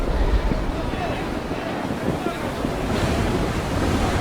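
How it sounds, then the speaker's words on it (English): Roaring waves and rushing wind fill the scene as a ship sinks beneath the surface in the Naval Action sailing game, a loud, continuous wash of surf and water with no distinct individual splashes. "His ship is sunk beneath the waves."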